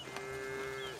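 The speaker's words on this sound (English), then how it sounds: "The cow." A single low, sustained cow moo from a farm animal in the video game Foundation, heard clearly for about a second against quiet ambient background.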